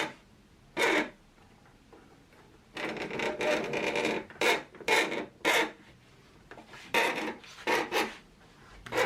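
A knife held in a circle-cutting jig scores a deep groove in acrylic sheet, a series of dry rasping strokes, some short and one longer run, fairly close.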